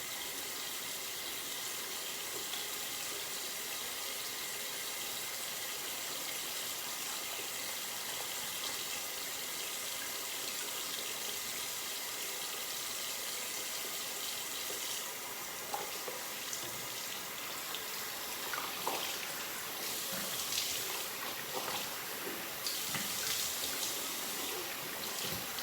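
Tap water runs steadily into a bathroom sink during face washing, a soft continuous hiss with faint splashes and small shifts as hands move under the stream.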